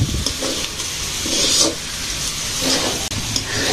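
Oil sizzling in a pan with a bay leaf on a village kitchen stove, a steady broadband hiss with brief louder crackling swells, close and fairly loud, no talk.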